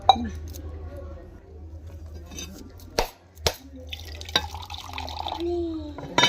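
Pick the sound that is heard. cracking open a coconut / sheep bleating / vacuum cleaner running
cracking open a coconut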